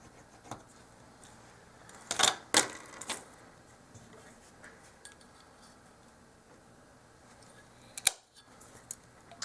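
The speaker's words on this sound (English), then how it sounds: "Mark off 1 inch so I can cut a couple of 1 inch pieces." Wooden craft sticks being cut into 1 inch pieces for a miniature dollhouse sled: a few sharp, close snipping cracks, a pair clustered together and one more later, over a quiet background.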